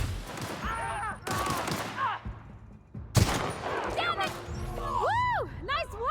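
Gunfire in The Outer Worlds during a fight at a community centre, several sharp shots and bursts mixed with a voice talking and warbling sci-fi weapon effects toward the end.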